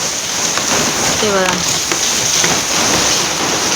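Heavy rain pours over floodwater in Vasai, making a dense, constant hiss and patter that is close and loud, while a voice speaks briefly.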